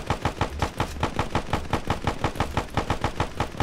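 Rapid automatic gunfire in a video game, a steady rhythmic stream of loud, close shots repeating evenly without pause, with no talking.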